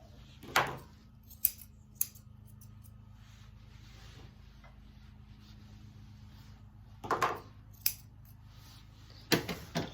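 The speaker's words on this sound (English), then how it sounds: "I'll trim the ear hair this way as well" Scissors trim the ear hair of a cocker spaniel. A handful of crisp, close snips come at irregular intervals over a quiet room background, sometimes in quick pairs.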